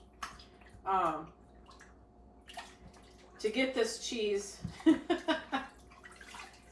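Warm water runs from a kitchen tap while a cheese grater is rinsed, a soft splashing flow in bursts as a person speaks over it.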